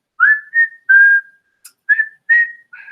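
A person whistling a series of short, clear, flute-like notes, about seven separate tones with brief pauses between them, close and loud, the whistle imitating a flute.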